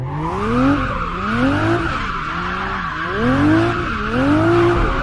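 Tires squeal continuously as a car drifts in Assetto Corsa, sweeping through a complete pirouette around a small yellow bollard, the pitch of the squeal rising and falling in waves with engine drone underneath, loud and close, no talking.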